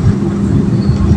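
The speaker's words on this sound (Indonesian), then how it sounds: "Kereta api Argo Parahyangan berhenti sejenak di stasiun Cimahi untuk menaik turunkan penumpang" The Argo Parahyangan passenger train idles at Cimahi station while passengers board and alight, a loud, steady low rumble heard from on board without distinct events.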